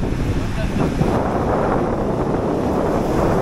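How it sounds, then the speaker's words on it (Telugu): Big sea waves rolling in at a fishing harbour, a dense continuous roar of surf and water heavily buffeted by wind on the microphone, steady and loud throughout. "అది చూడు ఎంత పెద్ద వస్తున్నాయి నీళ్ళు"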